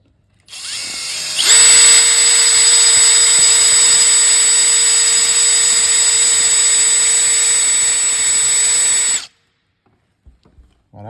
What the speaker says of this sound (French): on a un foret étagé comme cela, donc c'est un foret étagé de 20. Et on le perce de part en part.